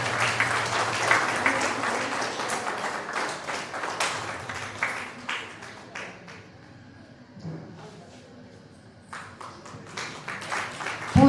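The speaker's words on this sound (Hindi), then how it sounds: "जय, जोरदार तालियों के साथ।" An audience at a birth-anniversary celebration for Birsa Munda breaks into loud, sustained clapping that thins out midway, leaving scattered claps and a quieter stretch before a brief final burst.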